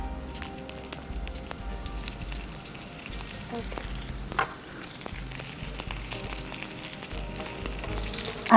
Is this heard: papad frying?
yes